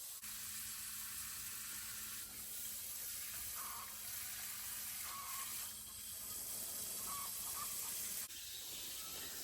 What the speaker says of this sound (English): 1 to water the plants and two others to hold the hose so we don't destroy any plants.